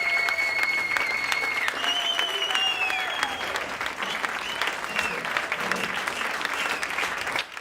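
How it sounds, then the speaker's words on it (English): Enthusiastic applause and loud, sliding whistles fill a bar as performers take their bows. Dense clapping runs steadily throughout, with several shrill whistles rising over it near the start. "They end with exaggerated bows, applause, and whistles filling the bar."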